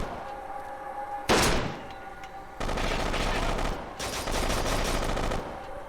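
Gunfire in the video game Kane and Lynch 2: Dog Days: a sharp single shot, then long sustained bursts of loud rapid automatic fire with a brief pause between them, dense and close.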